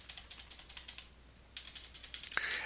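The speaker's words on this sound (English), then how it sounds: "I'm going to use my cursor arrow keys and I can move this up and down." Cursor arrow keys on a computer keyboard are tapped in a rapid, regular series of close, light clicks, pausing briefly before another run, ending with a sharper click.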